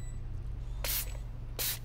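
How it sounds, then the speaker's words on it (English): Two short hissing bursts from a spray can in the video game FNAF: Help Wanted 2, each about a quarter second long and evenly spaced over a quiet low hum. "I just gotta spray that, right? Spray it."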